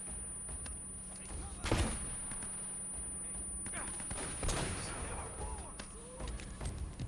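Gunfire in Uncharted: Drake's Fortune, a few sharp shots cutting through a steady game background, the loudest burst near the start and another midway.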